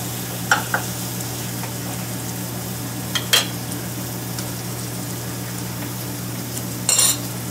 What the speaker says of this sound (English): I'm going to add some of this roux to the pan.